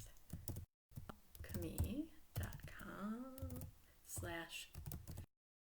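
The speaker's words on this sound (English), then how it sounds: "I hope I'm typing it right" Fingers tap out a web address on a computer keyboard in quick, light clicks, mixed with soft spoken commentary and brief pauses.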